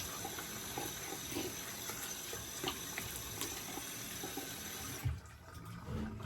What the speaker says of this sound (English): Let's get this soap off my face here.